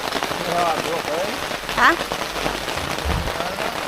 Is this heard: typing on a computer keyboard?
no